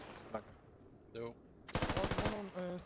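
Squad game gunfire: a dense, fast burst of automatic shots, moderately loud, cutting in after quieter moments, with a caster's voice talking around it.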